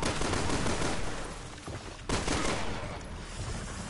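Gunfire in the Resident Evil video game roars as a dense, continuous rapid-fire burst, loud and close, briefly cutting out near the middle before resuming.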